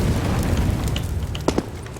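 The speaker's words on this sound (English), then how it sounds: "This Molotov is awesome." A Molotov cocktail bursts into flame in Counter-Strike on the Dust2 map, giving a dense rumbling whoosh of fire with a couple of sharp crackling pops near the end, close and fairly loud.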